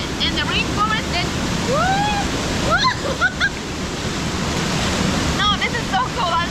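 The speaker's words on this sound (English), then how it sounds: "That is a powerful waterfall." A powerful rainforest waterfall gives a steady, dense roar with no breaks, while birds call faintly over it and people speak at times.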